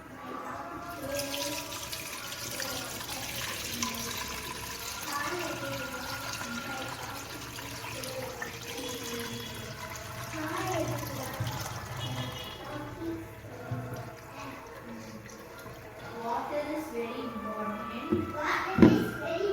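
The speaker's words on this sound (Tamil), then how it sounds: "இப்போ வந்து அந்த வடிகட்டில் நான் ஊற்றி வடிகட்டுறேன்" Homemade grape wine poured through a strainer, a soft continuous trickle and splash of liquid that sits beneath steady talking for most of the stretch.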